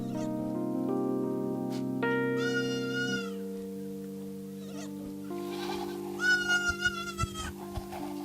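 Goats bleat a few times, wavering and nasal, close by over a steady droning tone.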